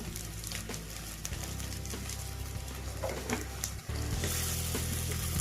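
Chili powder being stirred into a taro root (arbi) tamarind curry sizzling in a pan, a steady close hiss with scraping stir sounds and a brief dip before the sizzle resumes louder.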